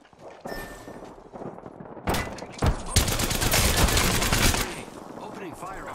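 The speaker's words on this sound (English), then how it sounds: "Opening fire on the enemy." Gunfire in the battle royale video game Apex Legends starts with sparse shots, then breaks into a loud, dense fusillade of rapid automatic fire. It fades into softer clatter, with game voice lines and a player talking around it.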